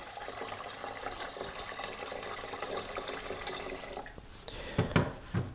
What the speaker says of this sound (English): Add water in first. Add 2 liters of water.